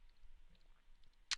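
A single sharp computer mouse click comes near the end, sharp and close against a very quiet background.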